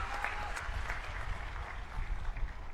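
A crowd at an outdoor Aam Aadmi Party election rally in Gujarat bursts into sustained, dense applause, a steady wash of many hands clapping at moderate distance, with faint voices underneath.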